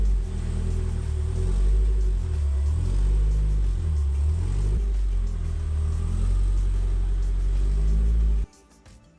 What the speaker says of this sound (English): I'm gonna have to start the car up and move it, kind of shimmy it this way a bit